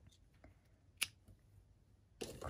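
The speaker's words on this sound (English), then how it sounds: "So I'm just gonna do maybe a little more, and I'll just trim it off." Scissors snipping a crochet yarn end, a single sharp close cut among faint handling rustles, followed by a louder burst of fabric movement.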